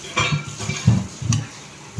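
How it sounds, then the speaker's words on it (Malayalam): Jackfruit appam batter being stirred with cardamom powder in a bowl, giving soft scraping and clinking utensil sounds in a few irregular strokes, close and fairly quiet, with no talking. "ഇനി നമുക്ക് കുറച്ച് ഏലക്ക പൗഡറും കൂടെ അതിൽ മിക്സ് ചെയ്താൽ"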